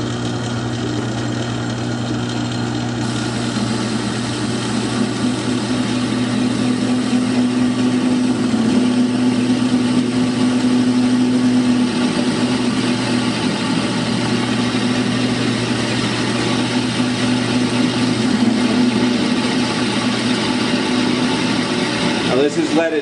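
A small metal lathe faces off leaded stock with a steady, continuous machining drone and a whine over the motor hum, running evenly throughout without pause.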